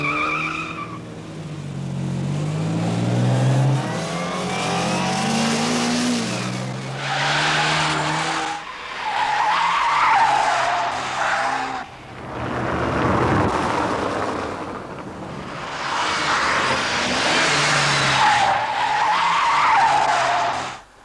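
A new 1982 production car being test driven hard, with repeated loud tire squeals and skids in several bursts over engine noise, some brief gaps between them.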